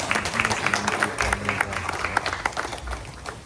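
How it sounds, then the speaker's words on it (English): Mourners at a funeral ceremony break into a round of clapping, brisk and uneven, with low drum-like thuds and crowd murmur beneath the applause. "give her a nice round of applause"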